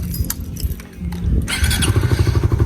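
A motorcycle engine starts and warms up, its loud idle rumble close to the microphone with a steady pulsing rhythm that grows fuller after a brief sputter.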